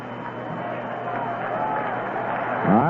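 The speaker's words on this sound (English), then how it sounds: "you hear the crowd on the two-strike pitch" A Yankee Stadium crowd reacts to a two-strike pitch in an Indians at Yankees game, a broad distant murmur swelling gradually, heard under a radio announcer's voice.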